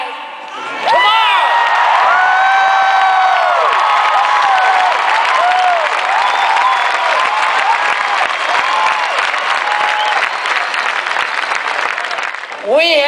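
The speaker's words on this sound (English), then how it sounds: "Let's have the greatest cheering section Penn State's ever had" A big Penn State football crowd roars and cheers for more than ten seconds, a loud sustained wall of voices and applause with whoops and shouts rising over it before it cuts off.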